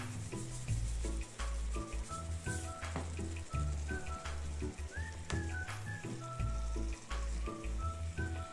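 Sliced onions sizzle steadily in a pan for ground meat wraps, a close, continuous frying hiss broken by small pops, with background music playing underneath.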